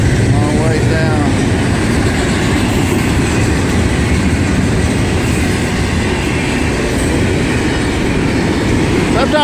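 Near and loud, a freight train of graffiti-tagged cars keeps rolling by at Gary, its steady rumble marked by wheel clatter over rail joints and short metallic squeals at the start and end.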